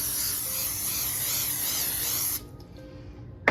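A steady, loud cooking spray hisses onto a baking pan for about two seconds, then cuts off, leaving a quiet room with a faint clink at the end.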